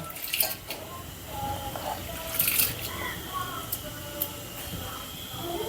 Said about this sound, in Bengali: ডালগুলো ধুয়ে নিচ্ছি আর এই যে এরকম সাদা পানি বের হবে